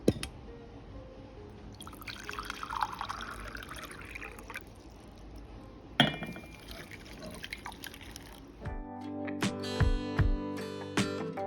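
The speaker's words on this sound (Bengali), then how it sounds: "এবার এর মধ্যে 4 কাপ জল নিয়ে নেব।" Four cups of water are poured into a pot for Knorr vegetable soup, giving intermittent close splashing and trickling with short pauses. Clinks and a denser burst of activity follow near the end.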